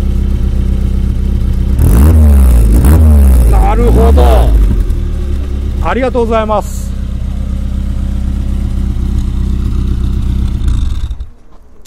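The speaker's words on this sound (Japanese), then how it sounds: "排気音聞かせていただきましょう" An old 70-series Toyota Corolla with a Toyota-tuned engine idles loudly with a throaty exhaust and rises in a few quick revs, while someone briefly speaks over it near the end.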